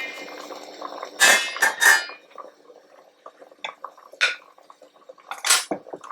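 Spoon stirring food in a pot during home cooking, with a few sharp metallic clinks and scrapes against the pot, some louder bursts and quieter taps between.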